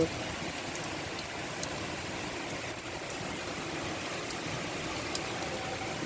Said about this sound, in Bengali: কি মুষলধারে বৃষ্টি হচ্ছে সকালবেলা। আকাশ মেঘাচ্ছন্ন করে এখানে ঝমঝম হয়ে বৃষ্টি করছে।